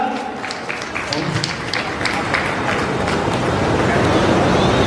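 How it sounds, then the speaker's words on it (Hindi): A crowd claps steadily at a Jain kalash installation festival, the applause building slightly in a dense, continuous patter with some voices underneath. "एक बार तालियां बजाइए जरा।"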